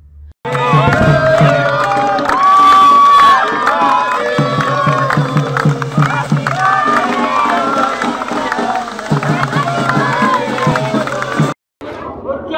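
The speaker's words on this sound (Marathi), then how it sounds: "उपस्थितांनी एकच जल्लोष केला" A crowd cheers and whoops at a birthday celebration as an advocate cuts a cake, with loud, dense shouting and mixed voices that swell throughout, then stop abruptly near the end.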